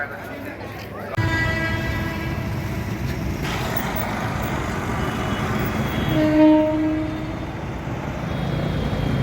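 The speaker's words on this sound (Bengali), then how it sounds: "দেখুন বর্ধমান কোয়ার্ডের ট্রেন যাচ্ছে" A Bardhaman line local train runs past near Bally, a steady broadband rumble of wheels and carriages that swells mid-pass with a brief tonal horn-like hoot, loud and close under background noise.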